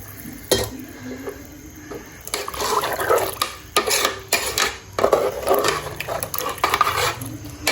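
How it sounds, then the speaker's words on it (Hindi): Water pours into a cooking pot of green chillies for a meat curry, with a splashing, gurgling stream and some clanking of the pot, close and fairly loud, with no talking. "और फिर इसके अंदर मैं पानी डालूँगी"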